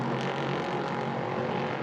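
A prototype race car with a 5.6-litre Nissan engine roars steadily past on a circuit, a dense, constant engine drone that holds level without breaks.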